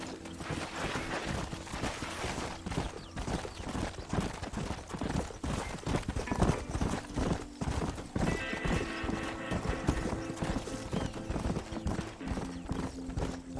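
Horses' hooves clip-clop steadily in Red Dead Redemption, a dense continuous rhythm of several mounts riding together under outdoor ambience, with lowing cattle and livestock sounds mixed in.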